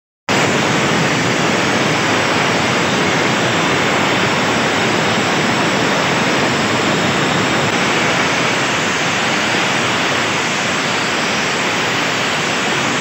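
An Atlas Copco air compressor driven by a Caterpillar engine runs steadily at close range, a loud, dense and unbroken roar that holds for the whole stretch with no talk over it.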